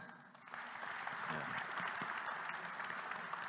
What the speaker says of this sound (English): let's hear your thankful applause for them